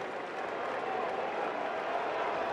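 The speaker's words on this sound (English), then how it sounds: "Crowd getting excited" Stadium crowd at a Rays vs White Sox baseball game cheering on a two-strike count, a steady, dense roar of many voices and scattered clapping, loud and continuous throughout.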